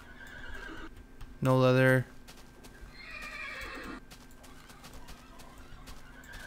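A Minecraft horse lets out a loud, brief neigh amid soft, steady clip-clopping hooves, with someone talking quietly over the game sounds.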